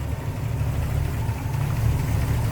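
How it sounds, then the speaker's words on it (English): A 1967 Oldsmobile Toronado's 425 V8 idles with the hood open, a steady, close, low rumbling hum with no revving and no voices. "Nice smooth running V8 here."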